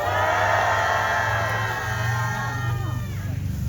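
Crowd at a Homeplus workers' struggle report rally roars and cheers loudly in a sustained, dense wash of voices, nearby and continuous throughout.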